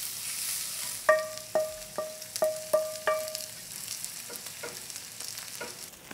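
Corn cheese ingredients hitting a heated pan and frying with a steady, soft sizzle, punctuated by several sharp, ringing clinks in quick succession before the sizzle carries on alone.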